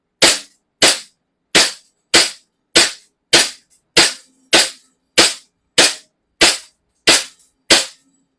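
Twelve sharp gunshots ring out at an even, steady pace from a firearm fired after aiming, each a loud, close crack with a short decay and silence between shots.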